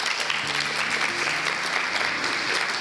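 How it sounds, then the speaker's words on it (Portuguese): Audience applause for a speaker named Regina at a women's congress in Basel, Switzerland: steady, dense clapping from a crowd, fairly loud and continuous, with faint voices mixed in. "Palmas para Regina"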